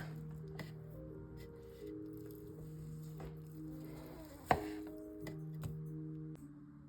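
A knife cuts half-inch slices of spiced pork tenderloin on a board. A few soft strokes sit over a steady background hum, with one sharp knock partway through.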